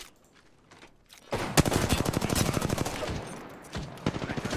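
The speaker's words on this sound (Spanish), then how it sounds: "¡Me están disparando!" Rapid automatic gunfire erupts in Apex Legends, a loud sustained burst of tightly spaced shots after a quiet start, followed by further shorter volleys.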